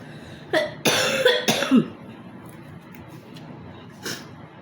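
Several harsh coughs close up: one short cough, then a burst of two or three heavy ones, and a lighter cough after a pause.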